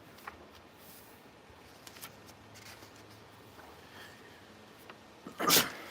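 A single sharp sneeze bursts out near the end, loud and close after several seconds of quiet room hiss with faint small knocks.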